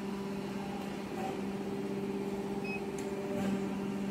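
A heating mixing machine for processing raw materials hums steadily and evenly at close range, a low electrical drone with faint tonal whine that holds throughout with no voices.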